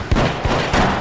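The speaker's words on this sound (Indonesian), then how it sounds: "Marcus ditembak oleh Gabe dan peluru itu bersarang di tangkurak kepalanya" Gunfire in an action film about soldiers and police staging a robbery, with several loud, sharp shots in quick succession over a busy, dense soundtrack, close and forceful.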